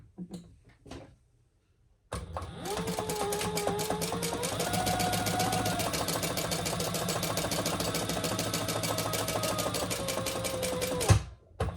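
A sewing machine stitches down the sides of a fabric clutch bag, running in one long, fast, steady burst of rapid mechanical clatter after a few quiet handling sounds, then stopping.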